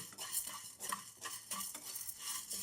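Tamarind dry-fried in a kadai with no oil, with repeated scraping and stirring strokes of a spatula against the pan, a faint crackle underneath, close and steady.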